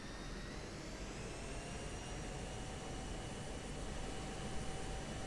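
An F-16C jet engine in the DCS combat flight simulator spools up for takeoff with a loud, steady roar and rising whine tones that build throughout, with no talk over it.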